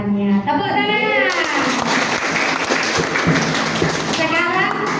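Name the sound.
applause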